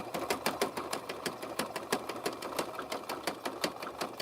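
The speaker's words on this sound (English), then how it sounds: "this sewing machine makes a lot of racket because it's plastic" A plastic sewing machine stitches rope at a steady fast rhythm, with rapid mechanical clatter and a rattly, tinny tone, close and continuous.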